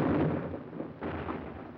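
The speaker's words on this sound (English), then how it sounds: "Our own artillery was brought to fall within 100 yards of our frontline elements" Artillery fire in a WWII battle in Italy, with friendly shells landing within about 100 yards of the front line. A continuous low, rumbling roar of distant barrages, heaviest at the start and with a second swell about a second in, and no voices.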